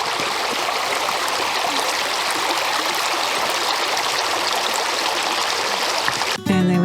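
Water rushes steadily in a small river during a vehicle crossing, a loud broadband wash that holds constant and is cut off abruptly by a sharp thump near the end.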